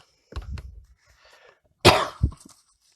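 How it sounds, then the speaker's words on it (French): A woman who is ill coughs twice, close to the microphone: a softer, rough cough, a pause, then a sharper burst with a short follow-up. "Je suis, comme vous pouvez l'entendre, malade, je tousse."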